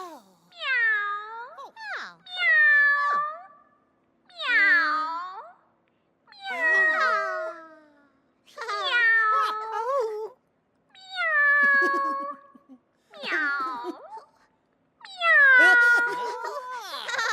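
Voices imitate a cat's meow in eight separate drawn-out mewing calls with short pauses between them, clear and close against silence, in a Teletubbies animal-sound segment.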